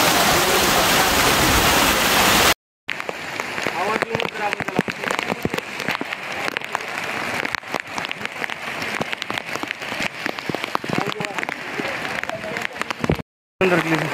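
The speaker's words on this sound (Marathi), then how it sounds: "जैसे जैसे हम रायगढ़ किले के ऊपर जाते हैं वैसे वैसे खूबसूरत से धबधबे देखने मिल जाते हैं आपको, जिसमें से ये एक धबधबा है" A monsoon waterfall along the climb up Raigad Fort roars as a loud, continuous rush of water, broken by two brief dropouts, with a voice speaking over it at moments.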